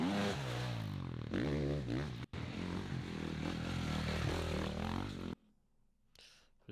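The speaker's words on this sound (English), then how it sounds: "Obviously, I'll still keep the engine noises over the actual music." A motocross motorcycle engine in edited race footage, revving up and down in rising and falling sweeps with an abrupt cut midway, then dropping to near silence before a brief return at the end.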